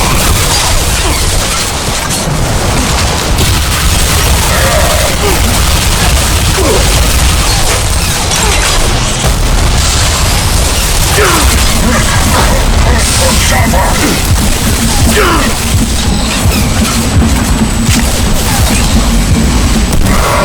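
Gunfire and explosions from the shooter game Bulletstorm, a dense nonstop barrage of booms, crashes and bursts that stays loud throughout, with voices calling out over the battle.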